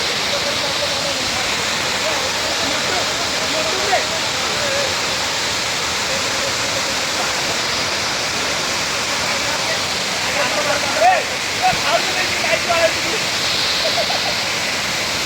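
Water roaring through a dam, a loud, continuous broadband rush that fills the whole stretch, with faint voices briefly surfacing near the end.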